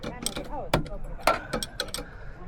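A ratchet wrench tightens a bolt with a nylock nut on a Volkswagen at a rainy Alaska campout. Several sharp metallic clicks sound close by at uneven intervals, with faint voices in the background.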